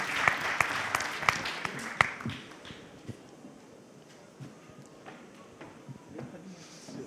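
Audience applause at an industry-of-the-future conference before a signing ceremony, sharp scattered claps at first that soon thin into sparse faint clapping, with voices talking underneath.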